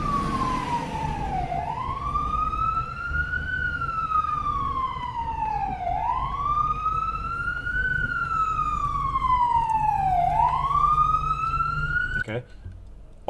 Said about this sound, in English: This is the ambulance.